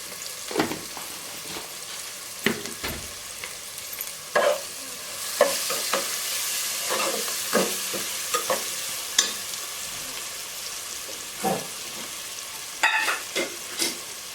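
Sifted besan flour stirred and roasted in oil in a pan, a soft steady sizzle broken by repeated scraping strokes of a spoon, close and unhurried, with no talking.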